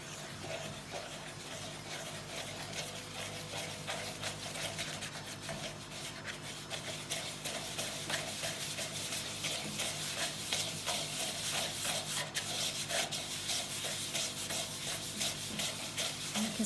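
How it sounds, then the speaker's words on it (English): Thick syrup and butter stirred into a dry mixture in a bowl for fairy gingers, a steady continuous rubbing and scraping that grows slightly louder and denser as the mix comes together, with no talking. "You can see the more I stir, the cleaner the bowl begins to look, and it all seems to stick together."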